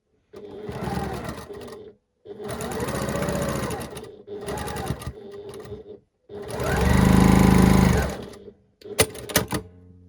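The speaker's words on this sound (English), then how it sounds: "And you sew 1/4 inch down the seam over here." A sewing machine runs in four or five bursts, stitching a quarter-inch seam on a quilt block. Each run is steady and close, and the longest, loudest one comes near the end, followed by a brief clatter.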